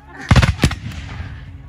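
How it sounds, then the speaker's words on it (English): A quick cluster of loud, close booming shots from big guns, several rapid reports followed by one more, then a fading rumble; a voice speaks around it. "Big guns."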